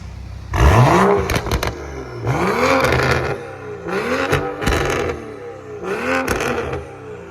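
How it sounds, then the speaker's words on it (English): A Subaru WRX with a stage 2+ exhaust and a BMW 535i with a stage 2 exhaust rev in four loud, close bursts, each rising and falling in pitch, with sharp crackles and pops between them and no talk. "Alright, we're gonna hear what these exhausts sounding like."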